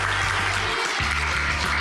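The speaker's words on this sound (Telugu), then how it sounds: "క్లాప్స్ కొట్టండి గట్టిగా." Brief, dense applause from a group during an on-ground student science tour, steady and close throughout with a low hum underneath.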